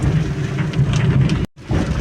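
Rain falls steadily on a mountain ghat road near Araku, a dense even patter that fills the clip, with a brief dropout near the end before the rain resumes.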